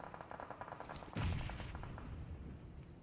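Gunfire in a PUBG Mobile pro league match, a dense burst of rapid shots with a loud heavy impact about a second in, then continued firing that carries on steadily to the end.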